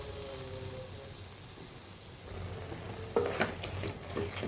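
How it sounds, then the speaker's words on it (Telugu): Tomatoes fry in a pan for a tomato chutney, giving a quiet, steady sizzle with a few louder stirring clatters near the end. "ఇప్పుడు ఈ టమాటాలు కొంచెం వేగాలండి"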